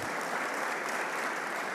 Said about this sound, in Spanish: Denle un aplauso al Señor, hermanos queridos.